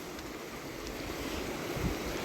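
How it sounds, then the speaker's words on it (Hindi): Ghughri river running high with rainy-season water, a steady broadband rush of flowing water with gusty wind noise on the microphone, continuous and fairly close. "घुघरी रिवर है, अभी तो बहुत ज़्यादा जल है इसमें"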